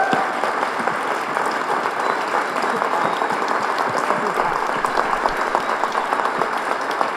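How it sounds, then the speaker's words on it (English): A seated audience at an entrepreneurship evening applauds, producing loud, dense, even clapping that fills the room without letting up. "So as we clap for them, we need to clap for Jacob. Please give him a hand."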